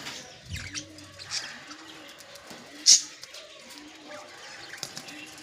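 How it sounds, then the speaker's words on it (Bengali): Pigeons and other birds gathered to feed on moringa leaves give soft, intermittent coos and scattered chirps at a low level, with one brief sharper peak midway. "পাখিদের প্রতিদিন সজনে পাতা খেতে দিন"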